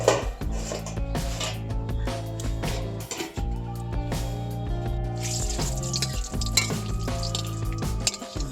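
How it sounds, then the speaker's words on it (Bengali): Panch phoron and bay leaf tempered in hot oil in a wok, a soft sizzle broken by repeated clinks and scrapes of stirring, heard close and fairly quiet over a steady background hum. "কড়াইতে তেল দিয়ে পাঁচফোড়ন, তেজপাতা, এগুলো ফোড়ন দিয়েছি।"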